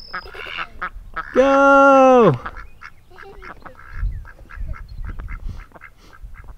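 A duck on a pond gives one loud, drawn-out harmonic quack that stands clear in the middle, with people talking and cheering close by before and after it.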